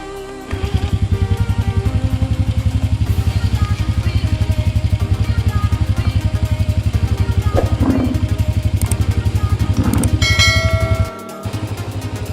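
A motorcycle engine runs at a steady, rapid putter close by, with a few metallic clanks and a brief dip near the end.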